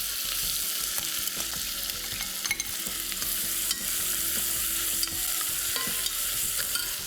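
Chopped onion sizzles and crackles steadily in a hot pan, with occasional clicks and scrapes of stirring over a continuous frying hiss.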